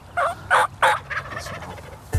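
A wild turkey gobbler with a double beard gobbles in a short, loud outdoor burst of three rattling calls followed by a softer trailing gobble, heard alone on a farm hunt.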